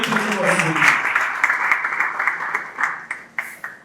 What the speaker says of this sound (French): Je demande d'applaudir très fort.